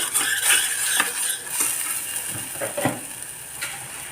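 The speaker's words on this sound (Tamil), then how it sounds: "இது கொஞ்சம் எண்ணெய் நல்லா எண்ணெய் பிரியிற அளவுக்கு நல்லா வதங்கிக்கிறட்டும்" Madurai-style pepper chicken gravy with turmeric frying in oil in a pan, a steady close sizzle broken by repeated scrapes and clinks of a stirring spoon, with no voices.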